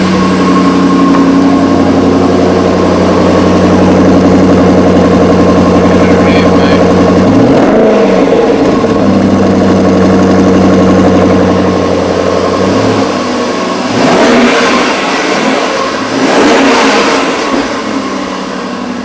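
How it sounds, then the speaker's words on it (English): A 2012 Jaguar XKR 5.0 V8 idles with a deep, throaty rumble, then revs sharply several times, the exhaust barking loud and close before settling back. "We get the exhaust sound."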